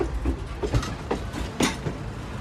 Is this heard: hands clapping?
no